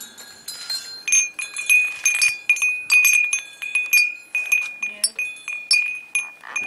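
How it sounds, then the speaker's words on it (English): Homemade glass wind chimes tinkle and clink in repeated bright, ringing bursts close by at a garden home, with a voice talking faintly in places. "My mom makes her own wind chimes."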